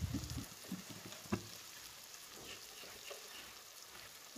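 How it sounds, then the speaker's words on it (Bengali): Chopped onion frying for a fish bhuna makes a faint, soft, steady sizzle, with a few light scraping stirs near the start, quiet and close, no talking. "এখন একটু পেঁয়াজ কুচিটা খুব সুন্দর করে ভেজে নেব।"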